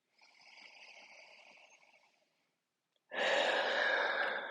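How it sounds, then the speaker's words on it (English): Deep breaths drawn into the rib cage while holding a downward dog yoga pose: a soft, steady airy exhale, a pause of silence, then a louder, closer rushing breath. "we can get these nice breaths into the rib cage"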